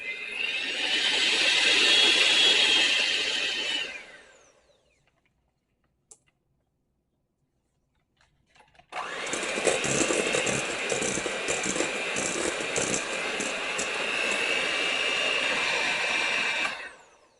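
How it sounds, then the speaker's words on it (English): Hand mixer whirring at top speed through butter, a loud steady buzzing rattle that runs for about four seconds, drops to near silence, then returns for a long continuous stretch. "I turn my hand mixer to the highest speed just to get all of that butter off"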